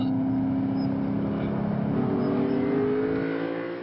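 Lexus GS F sports sedan with a V8 engine accelerating hard, its exhaust note a loud, steady droning roar with rising engine pitch, close by throughout and no speech.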